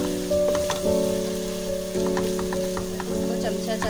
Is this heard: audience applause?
no